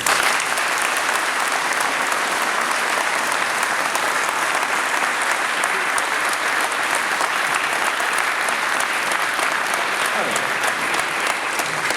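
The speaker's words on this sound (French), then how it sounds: "vous méritez encore nos chaleureux applaudissements" Warm audience applause at a tribute for two police officers, dense continuous clapping filling the room from start to finish, loud and even, with no talk over it.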